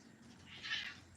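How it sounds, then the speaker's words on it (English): Cats fighting out of sight, heard as one faint, distant, high screech rising and fading over a steady background hiss. "the cats are fighting. I hear a cat fight."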